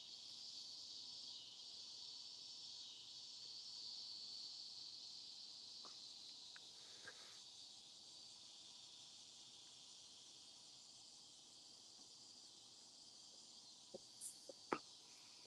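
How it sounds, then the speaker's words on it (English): Cicadas drone steadily in the background throughout, a continuous high insect buzz at low level, with a few faint clicks and brief knocks near the end. "Yeah, cicadas. They're insects that make those noises."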